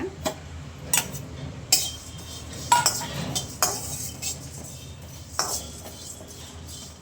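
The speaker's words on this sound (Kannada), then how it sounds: "ಸೋಂಪು, ಧನಿಯಾ, ಕರಿಬೇವು, ಕರಿಮೆಣಸುಕಾಳು, ಜೀರಿಗೆ 2 ಸ್ಪೂನ್ ಕರಿಬೇವು, ಇದಿಷ್ಟು ಡ್ರೈ ರೋಸ್ಟ್ ಮಾಡ್ಕೋಬೇಕು." Fennel, coriander, curry leaves, black pepper and cumin dry roasting in a pan, with a spoon scraping and clinking against the metal in irregular bursts over a low, steady background, and no talking.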